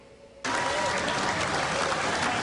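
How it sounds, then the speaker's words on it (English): Crowd at an Honor Flight welcome home ceremony for veterans at Greater Rochester International Airport breaks into loud, sustained cheering and applause after a brief quiet moment, a dense wall of clapping and shouts. "you'll find crowds like these cheering for their heroes"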